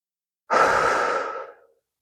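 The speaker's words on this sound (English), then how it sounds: "let's take one slow, audible breath" A single slow, audible breath, close and breathy, rises quickly and then fades out gradually over about a second, with silence before and after.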